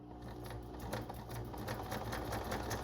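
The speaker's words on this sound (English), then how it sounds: "I'm going to use a straight stitch down this side." Quiet, steady sewing machine running a straight stitch at stitch length 3 on paper ephemera, with an even rapid needle rhythm throughout and no voices.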